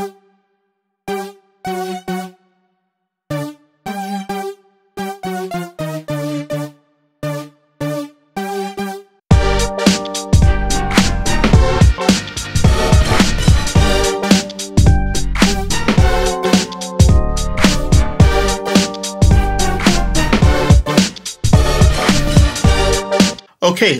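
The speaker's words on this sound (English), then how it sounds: "the one I'm going to be using now is on the Retro Synth" Logic Pro Retro Synth playing the Dance Basic Lead patch in a new jack swing beat: short staccato lead notes with gaps at first, then a full loud beat with drums and bass joining under the lead.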